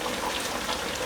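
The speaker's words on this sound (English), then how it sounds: "Let's pour that into the sauce to thicken up" A cornstarch and cold water slurry poured into the simmering sauce of a Cantonese oxtail and lamb stew, a brief wet splashing and bubbling close by.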